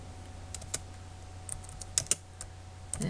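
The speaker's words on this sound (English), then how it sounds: "type C out." Sparse keystrokes on a computer keyboard while C++ code for a tic-tac-toe program is typed, single clicks and short bursts close by over a quiet room hum, with no talking.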